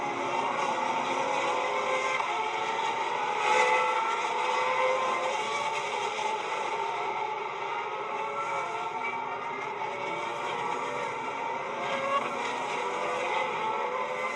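CART IndyCar race cars on a circuit at a 2002 race produce a steady, high whining engine drone that stays constant throughout with slight swells as cars pass.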